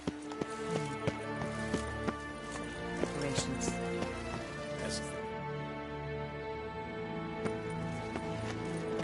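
Geralt's horse Roach clip-clopping through rain in The Witcher 3, sharp regular hoofbeats over a steady patter, quiet with a faint musical drone underneath.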